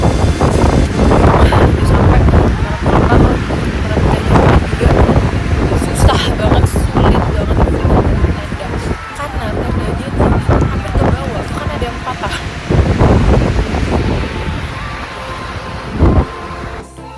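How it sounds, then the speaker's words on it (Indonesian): Strong wind gusting across Mount Rinjani, heard as loud, continuous buffeting roar and microphone rumble with rising and falling gusts, and people talking under it. "Angin yang cukup kencang membuat kami kesulitan untuk mendirikan tenda untuk beristirahat."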